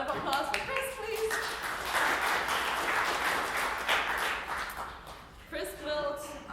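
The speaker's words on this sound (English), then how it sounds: "Round of applause for Chris, please." Conference audience applauding a presenter as he comes up, a dense, steady clapping wash filling most of the stretch, with voices talking over it at the start and again near the end.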